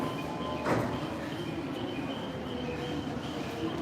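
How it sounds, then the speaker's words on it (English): Trains run through Ueno Station in Tokyo, a continuous dense rumble of rolling rail cars with faint steady squeals and a brief sharp screech near the start. "You got loads of trains coming in here all the time."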